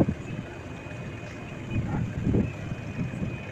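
Tarango 7 passenger launch cruising along the river at evening, a steady low engine rumble and water wash with wind noise buffeting the microphone, continuous and moderately loud.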